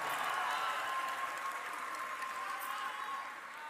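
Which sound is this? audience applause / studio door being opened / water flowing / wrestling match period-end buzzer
audience applause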